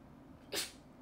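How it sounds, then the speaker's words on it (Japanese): A single short sneeze bursts out midway through a quiet stretch, fairly close, with faint room background before and after and no talking. "くしゃみしてます。"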